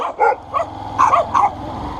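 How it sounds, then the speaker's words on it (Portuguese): Several dogs bark in overlapping bursts, loud and close, with yips and a whimper between volleys in a street setting; no one speaks during the barking. "Mano, olha o tanto de cachorro, tio."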